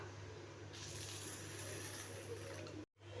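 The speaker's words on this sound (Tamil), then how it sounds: "இப்போ பருப்பை வாஷ் பண்ணி குக்கரில் சேர்த்துக்கலாம்" Lentils for sambar are swished and rinsed in water, a close, continuous wet sloshing hiss that cuts off abruptly just before the end.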